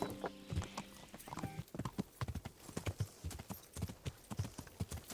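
Horse hooves clip-clop in a steady, close rhythm across the whole stretch in Kingdom Come: Deliverance, with a brief whinny-like tone near the start and faint game ambience underneath.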